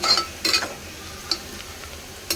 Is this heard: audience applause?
no